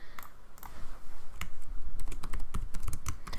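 Typing on a computer keyboard while entering KPI labels and targets into a blank Excel spreadsheet, with bursts of close, crisp key clicks in an uneven rhythm across the whole stretch.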